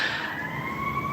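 An ambulance siren wails steadily at moderate distance, its tone holding and sliding slightly as it passes, heard alone without talk.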